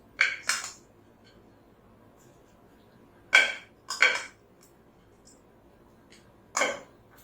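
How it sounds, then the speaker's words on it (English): A spoon scrapes and taps against a serving plate while chaat mixture is spooned over nachos, a few short, sharp clinks in separate bursts with quiet gaps between them. "I'm going to spoon this mixture over the nachos."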